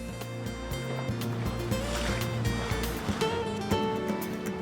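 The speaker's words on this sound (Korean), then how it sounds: "우리가 탈 어선이 항구를 출발합니다." A fishing boat leaves port before dawn and runs out over the sea, its engine droning steadily under a continuous wash of rushing water and hull spray, loud and close.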